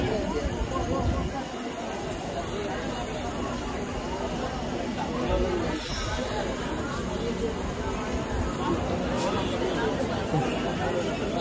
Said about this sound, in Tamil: செம்ம கூட்டம், இந்த கூட்டத்தை பாருங்க.